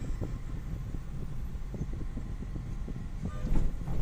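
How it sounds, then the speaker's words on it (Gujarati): A train rumbles across a railway bridge overhead while someone stands in the underpass below, on the road between Gondal and Rajkot; close, low rhythmic thumps and clatter roll on steadily and swell slightly toward the end. "ઉપરથી રેલ નીકળે"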